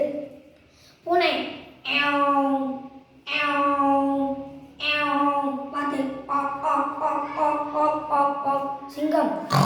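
A voice imitates a cat meowing in a school mimicry competition, a series of loud, drawn-out, wavering meows, several in a row with brief pauses between them.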